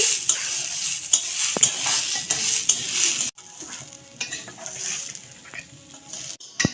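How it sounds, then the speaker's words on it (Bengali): Rice is fried in a pan for a vegetarian biryani, with a utensil scraping and clinking against the metal as it is stirred over a crackling sizzle. "বন্ধুরা এখন চালগুলি ভেজে নিচ্ছি"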